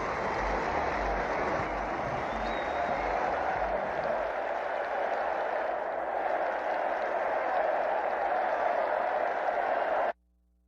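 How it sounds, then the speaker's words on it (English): A crowd roars at Fenway Park during a Boston Red Sox baseball game against the Minnesota Twins, a broad sustained wash of cheering and noise that holds steady for about ten seconds before cutting off abruptly. "The crowd still roaring here at Fenway Park as we get ready to go into the 8th"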